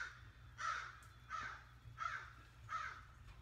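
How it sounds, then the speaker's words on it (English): A crow caws four times in a steady, evenly spaced series, fairly distant and faint over a low background rumble outdoors. "Crazy crow."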